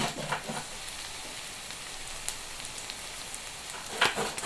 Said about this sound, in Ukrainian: щоб сок пустила, і трошечки засмажимо.